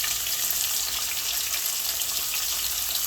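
Onion and two pieces of bay leaf dropped into hot oil for a traditional Bengali fish curry, giving a steady, bright sizzle that stays even throughout.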